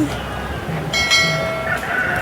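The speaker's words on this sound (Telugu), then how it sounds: "ఇప్పుడు చూసినటువంటి ఈ కోడిపుంజి" A rooster's short calls and clucks ring out nearby at a rooster market in Vijayawada, brief bursts over a bit of background noise.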